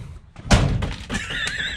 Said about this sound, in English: I just closed the door, the glove box fell open.